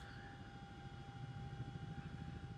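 Chinook helicopter in flight, heard from on board as a steady low engine and rotor drone with a constant whine, unbroken throughout.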